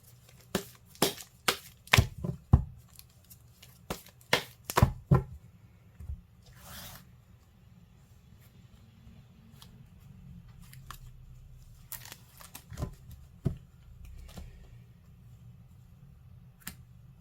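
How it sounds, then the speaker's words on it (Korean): Tarot cards are drawn and handled on a quiet table, giving a series of crisp, close snaps and flicks in quick bursts separated by soft rustling pauses, with no talking. "조언의 카드를 뽑아볼게요."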